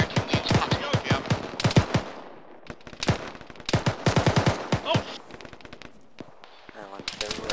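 Rapid bursts of machine gun fire in the Arma military video game, loud staccato volleys with brief pauses between, mixed with scattered single shots and voices talking in the background.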